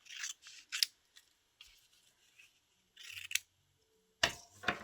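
Scissors snip through magazine paper for a collage in several short bursts of crisp, close cutting separated by pauses, with a final quick flurry of snips.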